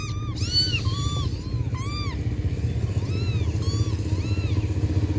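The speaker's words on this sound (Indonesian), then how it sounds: "Ini kok anak kucing." Thin, high meows from a small kitten, a rain-soaked stray among a litter of four, repeat several times in short rising cries over a continuous low engine rumble.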